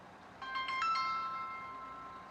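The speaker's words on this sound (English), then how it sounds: "Oh, sorry, my phone's ringing." A mobile phone ringtone chimes in a short run of bright, bell-like notes that ring on and fade out slowly, fairly faint over a quiet room with no voices.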